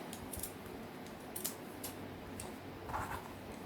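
Scissors cutting out fabric pieces for a sewn bird stuffie, heard as soft, close, intermittent snips and crisp clicks of the blades spaced irregularly over quiet room noise.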